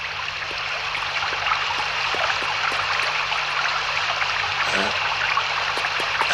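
Continuous rushing of a small stream flowing close by, a steady watery hiss with faint trickling.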